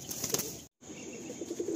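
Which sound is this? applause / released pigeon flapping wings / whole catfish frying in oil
released pigeon flapping wings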